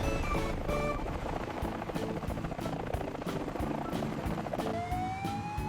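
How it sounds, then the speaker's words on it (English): An air ambulance helicopter thumps with rapid, steady rotor beats close by, loud throughout, with a faint rising tone near the end. "Air ambulance."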